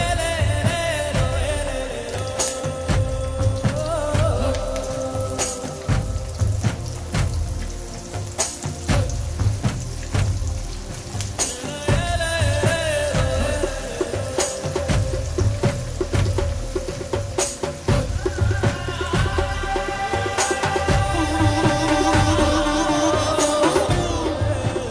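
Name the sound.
plantain chips frying in coconut oil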